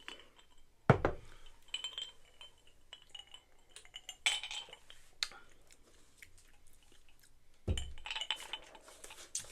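Glasses clink together in a toast over Whistlepig Gravestock wheat whiskey served with mineral water, with a few sharp clinks spread across the moment and small chewing and handling sounds between them.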